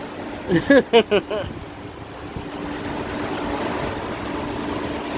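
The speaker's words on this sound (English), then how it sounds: "there was a big gust of wind over there at the other house" Hurricane Ian's wind builds into a sustained roaring gust that stays loud and even, after a few short voiced sounds at the start.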